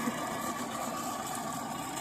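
A tractor engine idles in a field where a trolley has become stuck, a steady, continuous mechanical rumble holding at an even level throughout.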